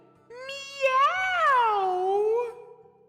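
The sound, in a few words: voice imitating a cat meowing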